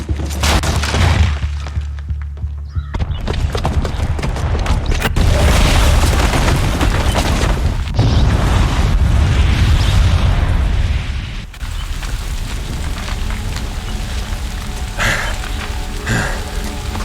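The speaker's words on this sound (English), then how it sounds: "the booby trap on the bomb downstairs is gonna get set off" A bomb booby trap detonates in the video game Horizon Zero Dawn, a loud continuous rumbling blast that rolls on for several seconds, with a brief dip and then a sustained roar of debris and crackling without any voices.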